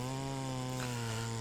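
A ported Farmertec Stihl MS660 chainsaw with a sticking trigger idles high and steady, its engine drone loud and close with strong buzzing harmonics, holding an unbroken pitch from start to finish.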